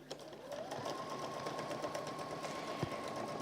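Sewing machine stitching along the edge of a cork fabric bowl, a steady, fast mechanical whir of the needle running continuously at close range with a faint click near the end.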